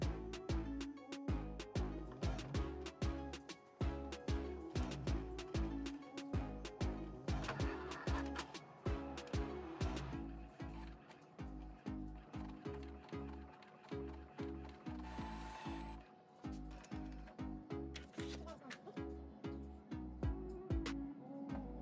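An Epson L8050 inkjet printer prints a nozzle test page, its mechanism clattering and ratcheting in a fast rhythmic pattern as the print head shuttles back and forth, loud and close and continuous.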